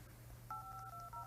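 A phone dials by itself, giving a rapid run of touch-tone beeps, steady paired tones with short gaps, faint and close over a low background hum.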